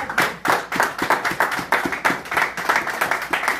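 A church congregation claps in acclaim, loud and close, in a quick, steady rhythm of sharp, evenly spaced claps.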